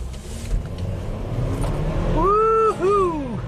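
A BMW with a 2-liter turbo engine and a malfunctioning wastegate accelerates hard from a stop, heard from inside as a rising engine drone that climbs steeply in pitch, briefly dips at a gear change, then climbs again.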